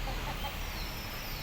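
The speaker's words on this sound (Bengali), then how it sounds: "বীর পুরুষ মোরগ" A rooster on a small poultry farm with laying hens makes faint clucking amid steady outdoor background noise, with no voices.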